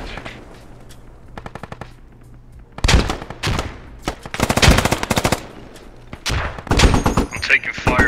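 Gunfire in the video game Squad: a quick light burst early, then loud sustained automatic fire in rapid repeated bursts, some close and some farther off, with faint voices underneath.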